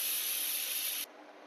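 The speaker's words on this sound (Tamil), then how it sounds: "குக்கரை ஓப்பன் பண்ணிக்கலாங்க" A pressure cooker that has just finished cooking banana flower biryani releases a loud steady hiss of steam, which cuts off abruptly to a softer background.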